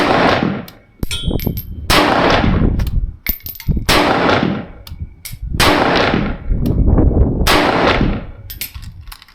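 A rapid string of loud, close SKS rifle shots, each sharp crack followed by a short ringing echo, fired in quick succession outdoors.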